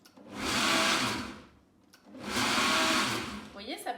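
A mini food processor blending pesto in two whirring pulses, each a loud high motor whine of about a second and a half with a short pause between, then a brief voice at the end.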